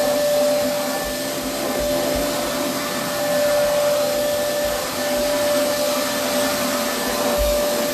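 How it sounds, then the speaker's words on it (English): A vacuum cleaner runs steadily and loudly at close range, pulling dog hair and fuzz off carpeted stair risers, its motor whine holding constant with small dips as the nozzle moves. "all the dog hair, all the fuzz that would normally be on there, you just vacuuming that right up"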